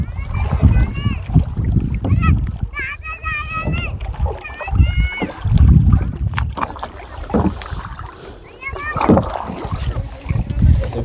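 Kayak paddles dip and splash on Kotipalli lake, a few close watery strokes running under near-constant talk from people on board, children's voices among them.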